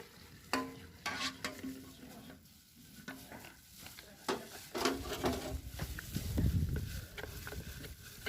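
A spoon stirs liquid into a boiling liquid soap base for antiseptic liquid soap, giving scattered clinks and scrapes over a low bubbling rumble that swells toward the end.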